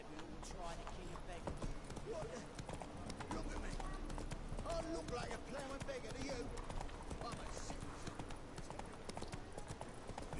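Horse hooves gallop in The Witcher video game, a steady, dense clip-clop rhythm running throughout under game ambience and a talking voice.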